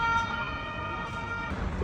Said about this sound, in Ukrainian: Коротше, прям біля мене когось та швидка забирала.